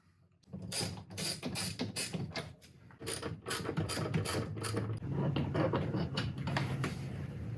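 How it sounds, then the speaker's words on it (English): A ratchet turns out a 10mm bolt behind the handle of a 2014-2016 Nissan Rogue front door panel, giving a steady run of close, rapid clicking that continues for several seconds. "10mm bolt that is behind the handle has to come out, so you're going to need a ratchet, and you take this one out up here."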